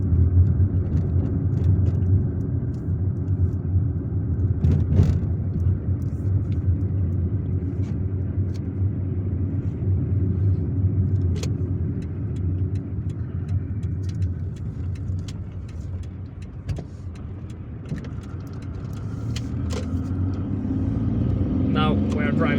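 Car driving through Algiers toward the Val d'Hydra roundabout, a steady close engine and road rumble filling the whole stretch, with occasional clicks and passing traffic noise and someone talking over it.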